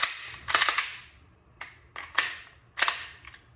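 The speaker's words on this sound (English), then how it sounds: "you shoot, nothing happens, bring back in, magazine out" A pistol is dry-fired and its magazine removed, giving a few sharp, close mechanical clicks and clacks in quick clusters separated by short quiet gaps.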